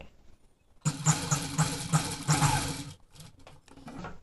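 Sewing machine running in short bursts as it stitches a seam on a round-neck design blouse, loud and close, with rapid mechanical whirring that stops and restarts before fading into quieter handling sounds.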